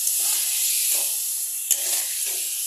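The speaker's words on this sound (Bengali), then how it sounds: "এখন এটাকে 1-2 মিনিট ভালো করে কষাতে হবে।" Turmeric and spices fry in hot oil for a small-fish curry with vegetables, giving a steady close sizzle broken by a few soft stirring scrapes, with no voices.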